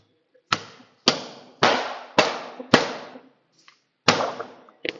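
A VB fitting is tapped into a panel in a run of six sharp knocks, close and fairly loud, each fading quickly, irregularly spaced with a longer gap before the last two and no talk.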